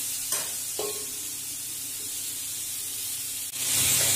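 Oil sizzles steadily as pointed gourd and potatoes fry in a pan, with a couple of soft scraping stirs and a louder hiss near the end.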